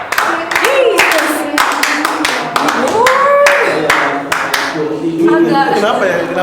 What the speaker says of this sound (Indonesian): Kenapa tepuk tangan kayak gitu?